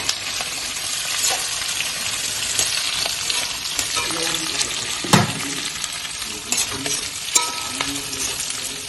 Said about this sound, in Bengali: রসুনটা লাল লাল হয়ে যাচ্ছে, এবার পেঁয়াজটা দিয়ে দিচ্ছি।